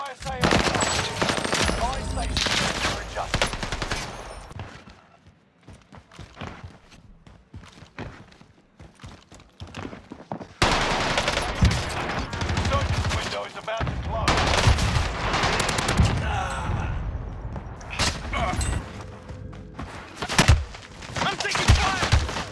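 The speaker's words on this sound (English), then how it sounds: "Is that guy shooting you from the tower?" Warzone gunfire rattles in repeated bursts from a shooter, some close and loud, others quieter, with a lull midway and heavy firing resuming, footsteps mixed in.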